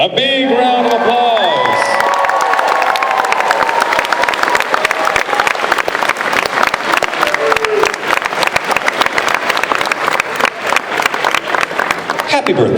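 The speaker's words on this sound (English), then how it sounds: "A big round of applause." A convention Q&A audience applauds and cheers for a birthday, dense rapid clapping with whoops and shouts across the room, loud and sustained, with a voice speaking over the start.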